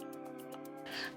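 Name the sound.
cat meowing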